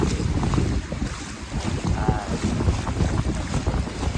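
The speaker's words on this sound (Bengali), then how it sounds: "এপারে কিন্তু বড় বড় ঢেউ হচ্ছে" Big sea waves breaking at Bakkhali beach, heard as a steady, loud roar of surf mixed with buffeting wind across the microphone, with no clear pauses between swells.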